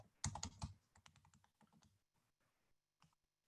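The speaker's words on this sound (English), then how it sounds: "which I'm typing into the chat right now" Quick bursts of keystrokes on a computer keyboard, a dense cluster of clicks at first, then sparser, fainter taps that trail off, heard close and alone.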